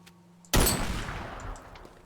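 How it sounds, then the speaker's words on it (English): A gas tank blows up in the modded Teardown video game: one sudden loud blast with a broadband burst that rumbles and slowly decays over about a second and a half, heard alone. "Just hit a gas tank. That's what exploded."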